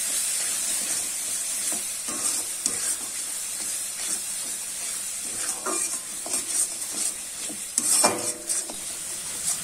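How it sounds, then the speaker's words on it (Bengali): A spice masala with red chilli powder and a little sugar fries and is stirred in a hot pan, giving a bright continuous sizzling hiss broken by several spatula scrapes and clacks, up close. "এবারে ভালো করে কিন্তু মশলাটা আমি কষিয়ে নেব।"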